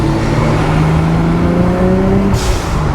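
Nissan R32 GT-R with a twin-turbo setup and aftermarket downpipe, its engine droning loud and steady with a rising tone, then a sharp hissy blow-off valve burst near the end.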